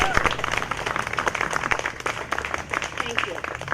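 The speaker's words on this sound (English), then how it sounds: "So if we could give them a nice thank you and a round of applause" Audience applause at an outdoor history museum picnic, a steady wash of many hands clapping at close-to-moderate distance with voices and crowd murmur mixed in throughout.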